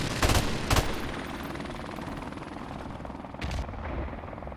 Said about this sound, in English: They cannot shoot my helicopter down.